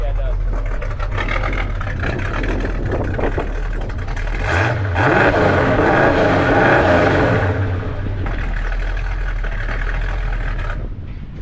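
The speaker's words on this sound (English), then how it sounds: "That's a nice sounding dual exhaust." A 1966 Plymouth Satellite convertible's big block engine idles with a slight lope through dual exhaust, a steady low rumble that briefly revs midway, with wind noise and people talking over it.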